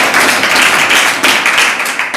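A seminar audience breaks into loud, close clapping, a brisk burst of many hands that swells again just before it stops.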